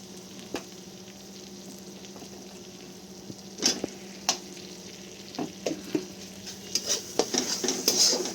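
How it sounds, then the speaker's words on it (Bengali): Spiced vegetables lightly frying and being stirred for mushroom masala, a soft continuous sizzle broken by sharp utensil scrapes and clinks against the pan that grow more frequent toward the end, heard up close. "তো সবজিগুলো হালকা নেড়ে চেড়ে নিয়ে"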